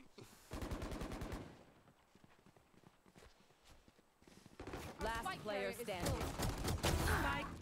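Pistol gunfire in a video game during a collegiate esports match: sharp, clustered shots in the middle, with people talking before and after.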